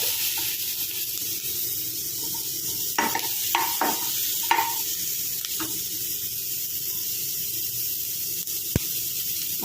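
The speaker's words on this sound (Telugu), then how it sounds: "ఇప్పుడైతే ఆనియన్స్ కూడా వేసేసుకున్నాం. ఇవి కూడా బాగా ఫ్రై అవ్వాలి." Onions frying in a pan for broccoli millet noodles make a low, even hiss, with a few clinking stirs clustered near the middle and one sharp tap later on.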